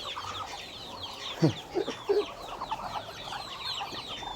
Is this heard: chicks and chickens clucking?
yes